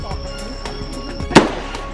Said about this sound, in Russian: Тут можно пострелять из чего только хочешь. Хоть из пушки.